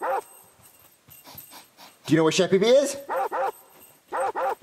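A dog named in a comedy puppet sketch barks, yips and whimpers in short bursts at mid-clip and toward the end, loud and close, alternating with people talking.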